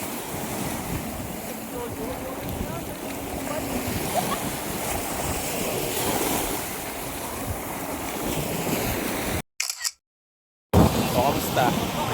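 Ocean waves surging at high tide on an island shore, a continuous loud wash with wind buffeting the microphone, cut by a brief dropout of near silence before the surf returns.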